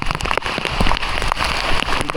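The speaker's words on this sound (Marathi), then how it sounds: "मस्तपैकी पावसाने हजेरी लावले." Monsoon rain falls at Raigad fort, a dense, steady patter of drops striking nearby surfaces, loud and close with no voices.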